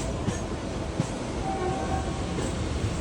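A Mumbai local train crosses overhead on a railway flyover with a steady, loud rumble and faint rail clatter, and no voices over it.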